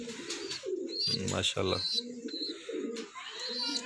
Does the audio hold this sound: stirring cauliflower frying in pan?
no